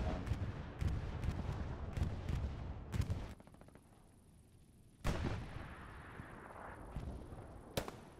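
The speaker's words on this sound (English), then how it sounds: "Bombing run, I think." Heavy explosions from a bombing run in the World War II shooter Hell Let Loose, a series of loud booming blasts spread unevenly, then a lull before more impacts nearby.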